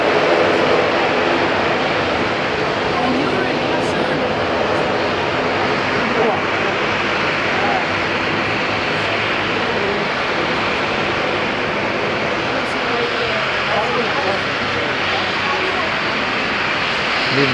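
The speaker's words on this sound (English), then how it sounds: "It's allowed NZ81 to get out and prepare for its takeoff roll" Air New Zealand flight NZ81 rolls for takeoff at Auckland Airport, a loud, steady broadband jet roar that fills the whole stretch without letting up.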